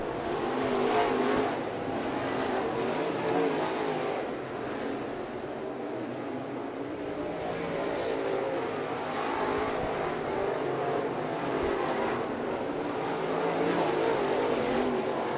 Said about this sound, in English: Race leader down the back straightaway, approaching the 18B of Mark Fleischer.